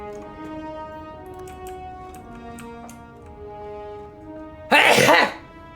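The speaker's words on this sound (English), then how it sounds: "It was only a sneeze." A single sharp sneeze from a character in Dragon Age II bursts out near the end, after a stretch of quiet tonal game music.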